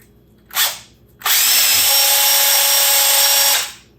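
A half-inch power drill spinning a brass cartridge case whirs briefly, then runs at a steady loud high-pitched spin for a couple of seconds before winding down.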